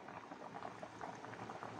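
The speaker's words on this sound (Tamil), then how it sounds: "கிழங்கு ரொம்ப கொதிச்சு வெந்துட்டுருக்கு, ஒரு 15 நிமிஷமாக வெந்துட்டுருக்கு." A pot of tapioca root bubbles at a steady rolling boil, with dense, continuous gurgling and popping close by and no voices.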